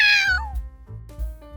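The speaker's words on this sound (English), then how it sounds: "Meow." A cat gives one clear, close meow that falls in pitch, followed by low thumps and a faint tonal hum.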